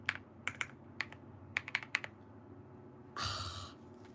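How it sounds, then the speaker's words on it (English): Keys clack on a computer keyboard in a quick irregular series of sharp taps, followed by a short louder rattling burst, close and fairly quiet with no talking. "Oh my god, this keyboard."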